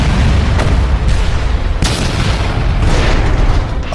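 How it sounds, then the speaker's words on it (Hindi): A broken plane wing slams into the ground and sets off a loud explosion: a dense, sustained roar of rumbling booms with sharp blasts repeating over four seconds, no voices. "लेकिन अगले ही पल पंखा जमीन से जा टकराया और एक भयानक विस्फोट हो गया।"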